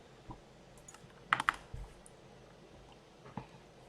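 Computer keyboard keys pressed during a Minecraft Lunar Client settings session, a few soft clicks with a short cluster of sharper taps early on, then one more isolated press, quiet and close.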